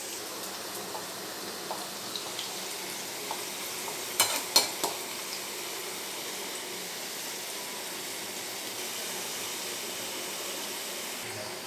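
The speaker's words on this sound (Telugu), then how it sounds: "ఇవి కూడా ఫ్రై అయినాయి అనమాట." Potato french fries frying in hot oil give a steady, soft broadband sizzle, with a few brief louder clatters near the middle, likely from lifting them out, and no talking.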